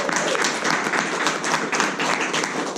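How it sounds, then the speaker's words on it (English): Applause from an audience at a recruitment event, a steady dense patter of many hands clapping close by and fairly loud throughout, with no clear voices over it. "Can we get a round of applause?"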